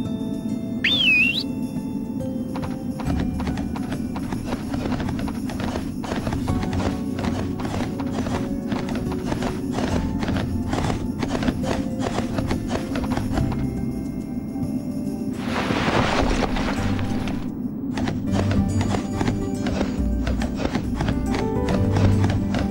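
Horse hooves clip-clop at a steady gallop rhythm in the PS2 game Barbie Horse Adventures: Wild Horse Rescue, with a brief whinny near the start and game music running underneath.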